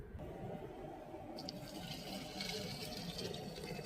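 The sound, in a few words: hot water poured into a pot for boiling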